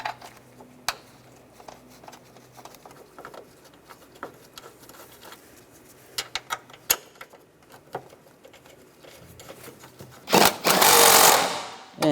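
Bolts on a 2003-2010 BMW X3 being tightened during a spark plug replacement: scattered light clicks and taps, then a loud, rough power-tool buzz lasting about a second near the end.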